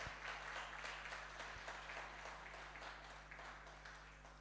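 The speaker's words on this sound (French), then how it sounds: "Applaudis le Seigneur." Applause from a church congregation praising the Lord, a steady broadband patter of many hands clapping together that carries on throughout and slowly fades slightly by the end, with no voices standing out.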